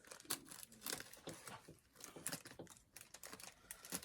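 Small scissors snip through craft material while making a no-sew nurse gnome, giving a close, continuous run of quick crisp cuts and rustles.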